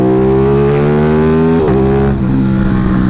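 Aprilia Tuono 660 motorcycle with an UpMap tune and mods powering out of a turn, a loud close engine note climbing steadily in pitch, briefly dipping at a shift, then pulling on.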